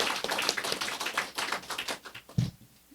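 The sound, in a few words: applause in a church service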